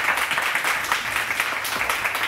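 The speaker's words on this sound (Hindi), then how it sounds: "तो सबसे पहले तुझे ज़ोरदार ताली में वेलकम करेंगे डॉक्टर सुहेल एजाज साहब को" An audience in a morning-show studio applauding to welcome a guest, dense continuous clapping at moderate volume, heard without talk.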